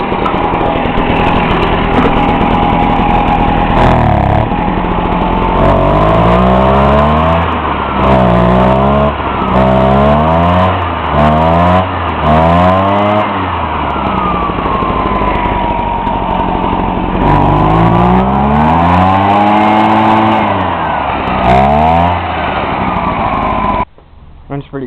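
An Echo backpack blower with a freshly rebuilt Zama carburetor cold-starts and runs, its small two-stroke engine buzzing loudly and revving up and down in repeated swells before cutting off abruptly.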